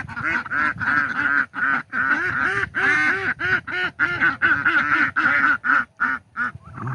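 Farm ducks quack loudly and repeatedly in a close, noisy flock, with rapid overlapping calls that continue almost without pause.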